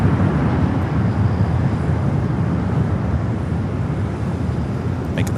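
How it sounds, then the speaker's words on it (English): A Finnair airliner taking off at LAX, a broad, continuous low roar of jet engines heard from a distance, steady and heavy throughout, with no talking. "Finnair more than likely heading up for north side at takeoff"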